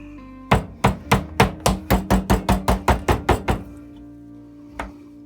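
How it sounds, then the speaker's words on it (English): Steak for Swiss steak is pounded thin with a mallet, about a dozen loud, evenly spaced thuds in quick succession, followed by a pause and one last lighter blow. "You want to pound this down to about a 1/2 inch thick."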